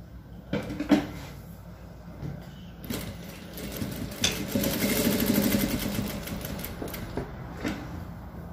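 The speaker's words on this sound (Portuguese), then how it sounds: "Vamos fechar ela aqui com o pé de máquina." A sewing machine stitches a lasso belt in a few short runs, then one longer steady whir of rapid needle strokes, with small clicks and handling sounds in between.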